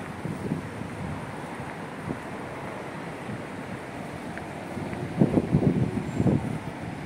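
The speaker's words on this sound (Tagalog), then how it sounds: "Malakas ang hangin." Strong wind buffets the microphone in a constant roar, gusting louder near the end.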